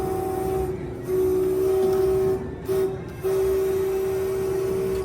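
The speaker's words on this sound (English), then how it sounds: "So it's for the Disneyland Railroad, so there's a railroad sound." Railroad sound effect for the Disneyland Railroad in Frontierland, Disneyland: a loud, steady whistle-like tone over rumbling noise, broken by a few short gaps, heard close.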